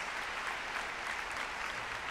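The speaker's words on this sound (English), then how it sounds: "Let's give a round of applause for all the performers, theatrical artists, and visual artists who have appeared tonight" Theater audience giving a round of applause for the evening's performers, theatrical artists and visual artists; dense, even clapping fills the room continuously and loud from start to finish.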